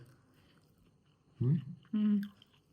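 Fried soya chunks being chewed up close, with two short, moist crunching bursts against a quiet background.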